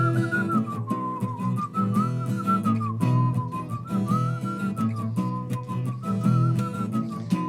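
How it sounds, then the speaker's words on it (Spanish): A person whistles a cheerful, wandering melody alone for several seconds, steady and fairly close, with no talk. "Y se fue silbando para la casa de lo feliz que estaba."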